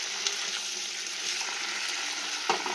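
Potatoes frying in hot oil for a potato curry give a steady, dense sizzle, close and even throughout, with a brief clink of a spatula near the end.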